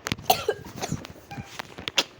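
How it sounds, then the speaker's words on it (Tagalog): A person coughs repeatedly, a rapid series of sharp, close coughs and throat-clearing bursts with no talking. "O may ubo lang ako?"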